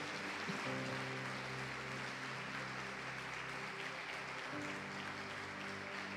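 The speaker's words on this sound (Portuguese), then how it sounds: "Aplauda o Senhor Jesus" A church congregation applauding, a steady dense clatter of many hands under a sustained organ or keyboard chord that shifts partway through, with no speech over it.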